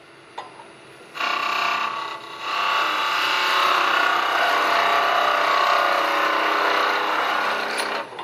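A lathe tool bevels a spinning wooden stool leg, giving a loud, continuous scraping and rasping whine that starts abruptly and holds steadily for several seconds, with a brief dip before resuming, no voices.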